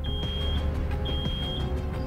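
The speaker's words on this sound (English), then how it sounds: "Oh, oh no. Something's beeping." An alarm in the video game Road 96 beeps in short, high, repeated bursts over a steady low game ambience, fairly close and clear.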